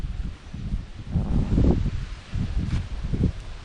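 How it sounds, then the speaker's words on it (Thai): Strong wind gusts around a Vidalido Instant Family camping tent set up outdoors, making close, surging bursts of rustling and flapping that rise and fall. "ตอนนี้ ลมก็แรงก็โอเคอยู่ ลมระดับหนึ่งนะ"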